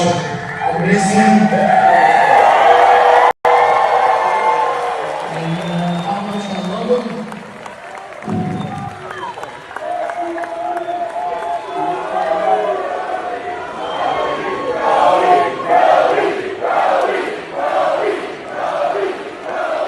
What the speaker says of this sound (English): That crowd's going crazy for Brody Lee